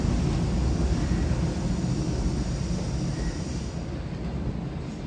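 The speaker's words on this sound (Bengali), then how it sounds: "এই ওপর দিয়ে যাচ্ছে মেট্রো" A metro train rumbles steadily overhead on an elevated track, a loud, broad and continuous roar holding for several seconds and easing slightly toward the end, with no talk.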